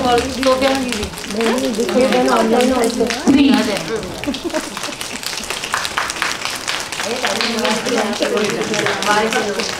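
An audience taps fingers together to imitate rain, giving a dense, continuous patter that swells and eases while a voice counts aloud.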